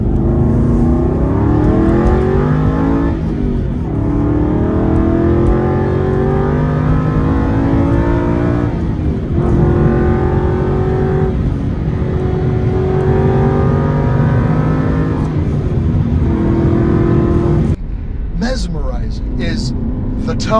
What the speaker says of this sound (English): you want to hear the glorious notes of this engine